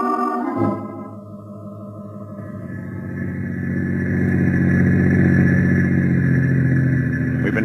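A car drives along with a steady mid-range engine drone that swells gradually after a brief cut, a continuous moderate hum behind a radio drama scene.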